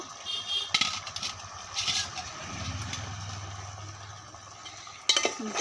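A spoon stirs fried capsicum, potato and eggplant into a beef tripe curry in a pan, a soft, steady scraping and stirring with a few sharper utensil knocks at the start and end.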